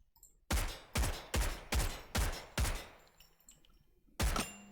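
Light machine gun fired from a bipod in Delta Force Hawk Ops, six loud evenly spaced shots with decaying tails, a short pause, then one more shot.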